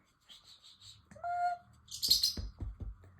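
A small parrotlet chirps close by. A few quick high tweets come first, then a short whistled call, then a burst of sharp chirps over some soft thumps. No one speaks.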